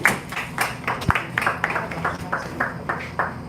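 An audience claps in rhythm at a stand-up comedy night in Toronto, a pulse of fairly loud, even beats repeating about four times a second throughout.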